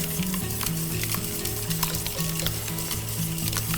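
Eggs whisked with vanilla in a bowl for paleo chocolate banana bread, a steady rhythmic scraping and tapping of the whisk that keeps going without a break, close and fairly loud, with no talking over it.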